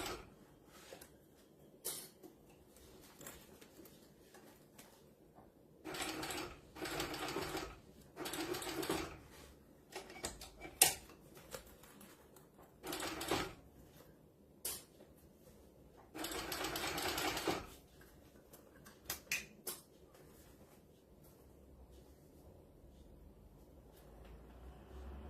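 Sewing machine stitching a seam on a fabric book sleeve, quiet bursts of rapid mechanical whirring that start and stop repeatedly, with the longest run in the middle, faint and alone in a still room.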